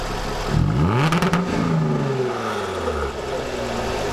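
A 2016 Jaguar F-Type exhaust in loud mode blips loudly with a burst of sharp crackling pops, then drops back to a deep, steady rumble close by.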